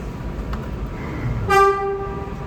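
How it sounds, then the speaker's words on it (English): An R211A subway car on a Manhattan-bound C local train rumbles underground with a low steady roar, then a short bright two-tone chime or horn sounds near the end, with no talk. "This is a Manhattan-bound C local train."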